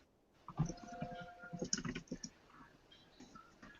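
Rapid clicking of keys on a computer keyboard, close and quiet, in a short burst that fades out toward the end.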